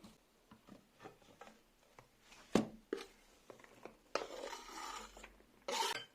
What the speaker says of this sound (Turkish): Hemen iri parçaları da doğrayalım.